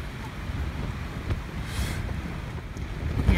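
Wind gusting across open moorland at a camp on Dartmoor, a steady low roar of microphone buffeting that swells and eases, loud and close, with no voices.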